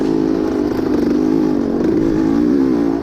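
A vintage racing motorcycle engine, ridden hard on a muddy track, drones loud and close with a steady rasping, slightly wavering pitch and no break.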